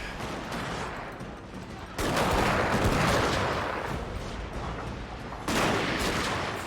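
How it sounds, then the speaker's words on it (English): Massed musket volleys from a battle in Total War: Shogun 2, dense crackling gunfire that surges in two loud bursts over a continuous rattling barrage. "there's still a lot of bullets being thrown around here"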